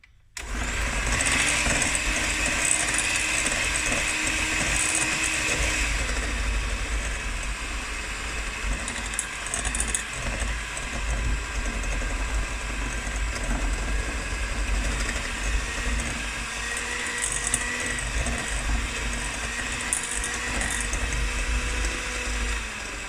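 Electric mixer beating butter biscuit dough with egg added, a steady loud motor whir that runs continuously throughout with no talking.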